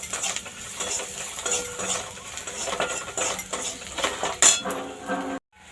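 Dal is stirred and fried in a pot with salt and turmeric, giving uneven metal scraping and clinking of a spoon against the pot over a light sizzle, close, ending in a sharp clink before cutting off.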